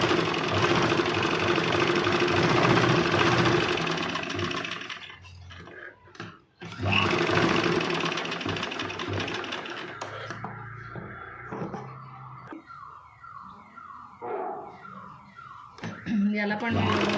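Sewing machine stitching a blouse lining, a loud, steady mechanical whirring run up close that stops partway, followed by quieter intermittent handling noises, with someone talking throughout.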